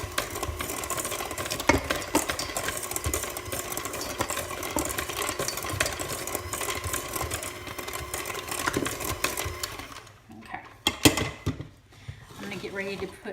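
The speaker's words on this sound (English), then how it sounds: "Take our mixer to it and just mix it up on low, just to give it a quick mix." Electric hand mixer running on low through chocolate cake batter, a steady continuous whir for about ten seconds that stops abruptly, followed by a few clinks and handling sounds.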